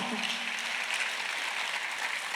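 Congregation clapping at a Korean church Sunday worship service, a dense steady wash of applause filling the room for the whole stretch, with a faint voice briefly audible at the start.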